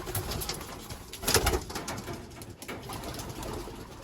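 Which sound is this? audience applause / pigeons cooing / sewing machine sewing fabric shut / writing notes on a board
pigeons cooing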